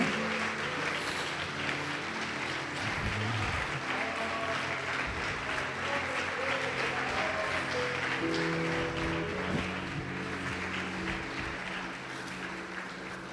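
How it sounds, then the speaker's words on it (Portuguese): A church congregation applauds in praise, steady sustained clapping filling the room for over ten seconds, with sung or spoken voices and music tones faintly underneath. "Pode aplaudir o Senhor Jesus e glorificar o seu nome"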